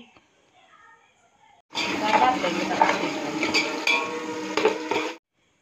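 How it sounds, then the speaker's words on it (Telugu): Thinly sliced onions drop into hot oil for chicken dum biryani and burst into a loud, continuous sizzle up close. Spatula clinks sound over it, and the frying cuts off abruptly after a few seconds. "అందులోకి సన్నగా కట్ చేసిన ఆనియన్ ముక్కలు వేసుకొని గోల్డెన్ బ్రౌన్ కలర్ వచ్చే వరకు అయితే వేపుకోవాలి"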